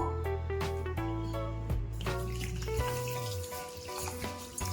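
Tulaipanji rice being washed in water, a continuous close swish and trickle of water with stirring, steady and fairly quiet throughout.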